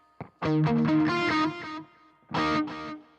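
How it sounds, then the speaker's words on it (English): Electric guitar notes ring out through a Boss ME-90 delay effect, a short phrase followed by a pause and a second burst, repeating echoes trailing behind. "Here's without the delay, and here's with delay."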